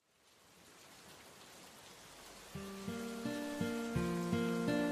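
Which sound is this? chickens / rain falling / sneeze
rain falling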